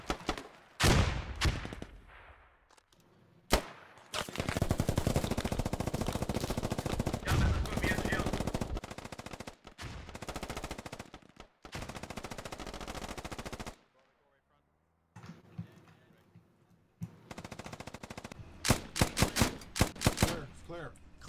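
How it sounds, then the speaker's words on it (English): Gunfire during firefights in the military shooter game Squad: long bursts of rapid automatic fire and sharp single shots, loud and close, broken by brief pauses, with a voice talking at times. "quite a few little small firefights breaking out here"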